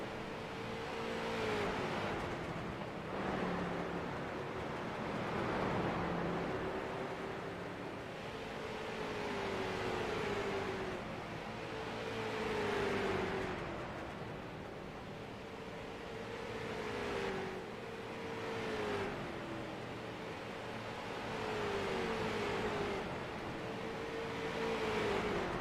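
Pro street stock race cars run laps on an oval track, engines rising and falling in repeated waves as they pass and accelerate out of the turns, a continuous loud roar from near and mid distance.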